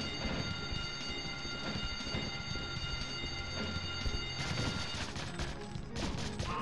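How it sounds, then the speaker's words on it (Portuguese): Alarm blaring in the video game 007 The World Is Not Enough, steady pulsing tones layered over dense in-game gunfire, crashes and music that grow louder and busier partway through. "O alarme, depois de um tempo, ele vai desativar sozinho."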